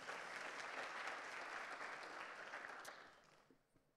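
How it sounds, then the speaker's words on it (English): Audience applause at a keynote speech, a steady wash of clapping that holds for a few seconds and then tapers off into quiet. "round of applause"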